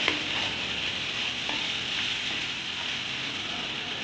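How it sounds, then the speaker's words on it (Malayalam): Papaya pickle sizzles steadily in a pan with chilli powder frying as it is stirred, a continuous close hiss broken by faint scraping strokes, with no one talking. "ഇങ്ങനെ ഇളക്കുമ്പോൾ ആ മുളക് പൊടിയും കൂടെ ഒന്ന് മൂത്തോളും"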